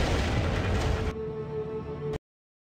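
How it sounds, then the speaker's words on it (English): Missile explosion hitting the player's ship in the space game Freelancer, a dense, loud rumbling blast that lasts about a second and then fades into a thinner humming tail before cutting off abruptly. "Incoming missile. Shield failed."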